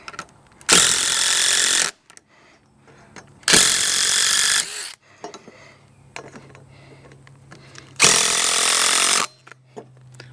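A power drill drives 3.5 inch number 10 deck screws, whirring in three separate bursts of about a second each, spaced by quiet pauses with faint handling sounds between, close and loud.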